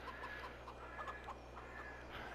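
Chickens in the Farming Simulator video game cluck in short repeated bursts over a steady low hum, moderately near with no talking.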